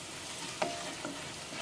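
Turmeric powder frying with onions in coconut oil gives a soft, steady sizzle, with a single brief utensil clink partway through and no voices.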